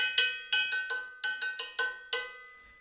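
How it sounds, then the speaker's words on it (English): A contracampana bell from a Latin percussion rig, normally mounted above timbales, struck about nine times in a loose rhythm, each bright metallic clank ringing briefly, close and alone. "I've got the contracampana that you would normally have above the timbales here."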